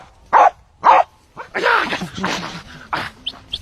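A dog barks twice, loud and close, then gives a string of whining, groaning yelps, with a voice partly mixed in.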